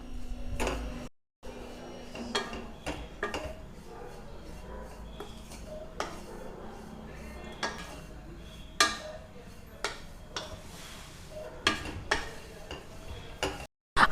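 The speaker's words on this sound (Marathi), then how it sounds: "हे खोबरं मी 2 बॅच मध्ये भाजत आहे" Dry grated coconut roasting in a pan, stirred with a utensil in batches for traditional winter laddoos, giving sparse scraping taps and clinks against the metal over a low background hiss.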